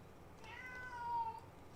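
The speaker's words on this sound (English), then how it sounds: "Oh, there's the cat now." A cat gives a single short meow, faint and a little distant, over quiet room noise with no one talking.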